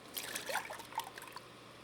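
Cooking water from leeks, carrots and potatoes for a soup drains through a strainer in a faint, brief trickle and splash, with no talking.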